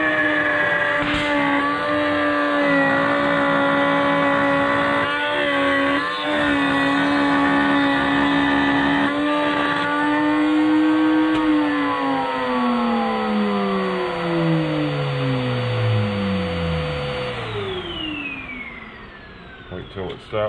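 A wood router with a bearing following a template runs loud and steady as it cuts wood for a custom stereo install in a 2020 Ford Mustang GT500 Shelby, then is switched off and its whine winds down to a stop.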